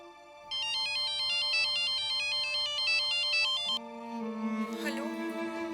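A mobile phone ringing during a call, a bright repeating electronic ringtone melody played near and steady, then switching to a different tonal tune near the end, with no voices.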